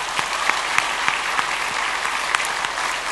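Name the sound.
church congregation applauding new members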